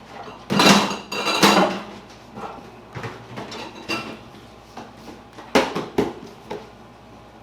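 Pots, pans and metal bowls clatter and clank in a home kitchen while someone rummages for a bigger mixing bowl to make a giant meatloaf, with a few sharp bangs followed by lighter scattered knocks.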